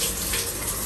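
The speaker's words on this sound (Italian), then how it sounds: "il suo papà che si sta facendo la doccia" Shower running in a home bathroom while a father washes, a steady broadband hiss of falling water that fills the short moment without pause.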